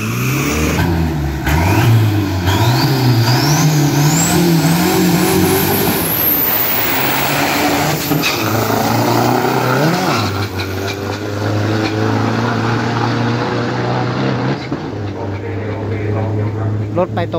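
Diesel and gasoline pro and street cars race down a 402 m drag strip, engines revving hard in rising gear-change sweeps, then a loud car passes close before a steady droning idle, while an announcer talks throughout.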